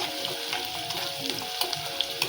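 Onion frying in a pan, a dense close sizzle with crisp crackling pops and light stirring, brief and steady with no voices.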